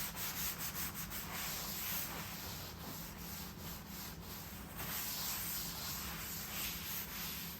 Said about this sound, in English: come back with some acetone and some 2/0 steel wool and just try to get as